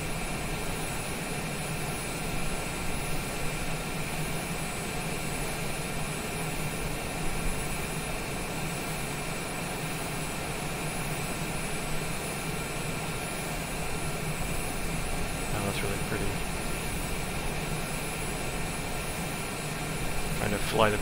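Cessna Citation Longitude jet engine in Microsoft Flight Simulator gives a steady, unbroken whine and roar throughout, constant and moderately loud with a few faint clicks near the end.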